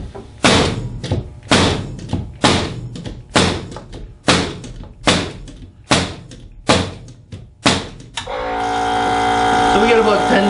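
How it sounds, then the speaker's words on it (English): Pneumatic finish nailer powered by a small Rolair trim compressor fires about ten nails in an even rhythm, each a sharp close thump, followed by the compressor motor starting up and running loud. "we're going to jump right up to the finish nailer and see how many nails we can fire with this unit."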